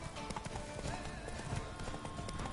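Hooves of Roach, the horse in The Witcher 3: Wild Hunt, trot in a steady clip-clop over a dense bed of game ambience and music, with a faint whinny hinted near the middle.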